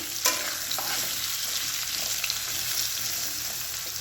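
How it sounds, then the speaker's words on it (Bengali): Potatoes fry in a pan with a continuous close hiss of sizzling oil, fairly even in level, with a few faint knocks of stirring near the start. "আলুগুলো একটু লাল লাল করে ভাজি"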